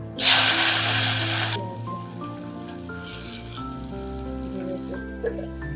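Green chilies drop into hot oil in a pan with a loud burst of sizzling that settles into a steady, close crackle of frying.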